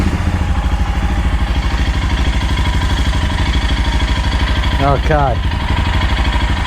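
Loud, steady idle of a Royal Enfield Himalayan motorcycle engine with an even, throbbing beat throughout, and a brief spoken word near the end.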